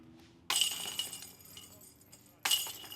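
Two disc golf discs slam into the chains of a basket on a wooded course, each impact a sudden bright metallic jangle that rings briefly, the second arriving about two seconds after the first.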